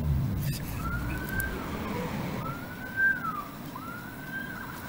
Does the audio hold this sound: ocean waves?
no